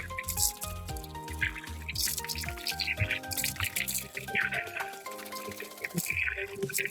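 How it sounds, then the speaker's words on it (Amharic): Water from a palace's own well in Dire Dawa drips and trickles close by in rapid, irregular plinks over a running liquid wash, with no speech. "ይሄ የምታዩት ውሃ የጉድጓድ ውሃ ነው።"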